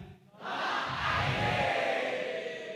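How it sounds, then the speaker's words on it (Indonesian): A crowd of webinar participants at SMKN 1 Cimahi shouting together in unison, a sustained loud group yell that starts after a brief quiet moment and holds steady to the end. "Oke, saya hitung 1 sampai dengan 3, kita teriak .id"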